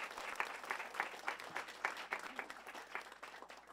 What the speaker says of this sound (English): I want you to welcome, with a warm round of applause,